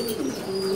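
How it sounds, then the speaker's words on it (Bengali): A pigeon in a breeding loft coos once briefly. The coo is fairly close and low, set against a soft background hiss. "এই কবুতরটা হলো ঐশ্বরিয়া জাতের"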